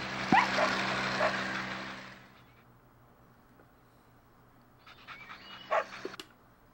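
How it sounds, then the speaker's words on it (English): A dog barks and yips in the Wacky World of Miniature Golf CD-i game, a loud noisy burst that fades to near quiet, then a few sharper barks return before the end. "It's a dog."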